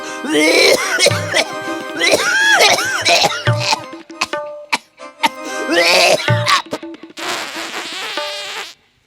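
An actor in a Bengali puppet comedy performs a string of exaggerated, voiced, groaning coughs in several loud close bursts with short pauses, ending in a rough noisy splutter; the coughing is a performed imitation.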